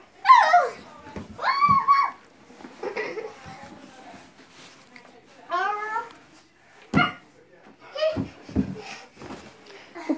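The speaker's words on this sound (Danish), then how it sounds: "Det er nogle søde hunde," Dogs in a family home giving several short, high yelps and whimpering whines in separate bursts with quiet gaps, while people talk softly nearby.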